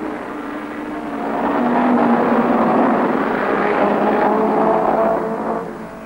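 A field of 1964 BRSCC club race cars roars away from the flag start, the massed engine drone swelling to a steady loud peak and then easing slightly as the pack pulls off.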